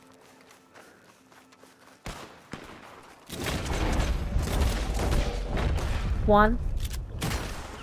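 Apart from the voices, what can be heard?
pistol gunfire in Red Dead Redemption 2 video game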